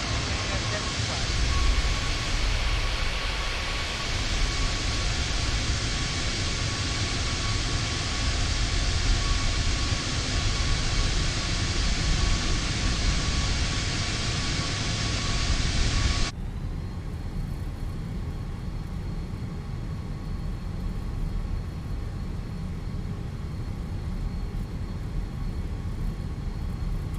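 An Airbus A320 taxis in Microsoft Flight Simulator, its engines giving a steady broadband rumble and whine that drops abruptly to a quieter, lower hum partway through. Talk is heard over the engine noise.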